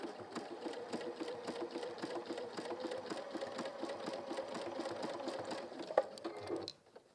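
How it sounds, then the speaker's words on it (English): Sewing machine stitching the pieces of a hemisphere pin cushion, a continuous rapid rhythmic clatter held for about six seconds, close and loud, ending with a click before it stops. "you can just start to stitch everything in place"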